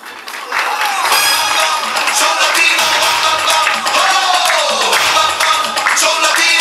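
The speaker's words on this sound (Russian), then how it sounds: "мы Ольгу встречаем аплодисментами" Audience applause greets contestant number four at a bikini pageant, a loud sustained wash of clapping running the whole clip, with music and voices mixed underneath.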